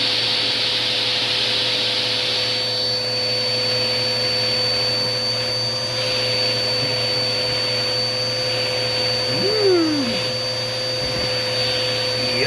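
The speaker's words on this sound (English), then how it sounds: "use the other vacuum to suck all that crap out of there" A vacuum cleaner runs continuously with a loud steady whine and airy roar, a brief shift in pitch near the end as something is sucked up.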